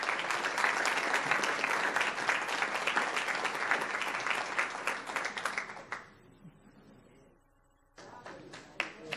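An audience at a Palm Beach County school gathering applauds the coaches and principal with sustained, close clapping that tapers off and nearly stops, then a few scattered claps pick up again near the end.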